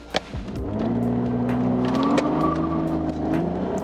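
A BMW Z4 accelerating hard from a standing start in sport mode with traction control off: a loud, close engine revving and climbing steadily through the rev range, with a sharp tyre or launch noise at the very start.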